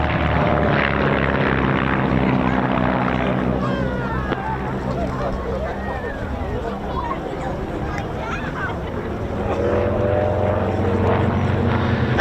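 Two Vans RV4 aircraft of the Firebirds display team fly at an airshow, their propeller engines droning continuously and loudly, with crowd babble and a commentator's voice underneath.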